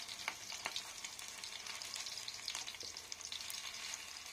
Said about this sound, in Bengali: একটু ডুবো তেলে ভালো করে ভাজতে হয়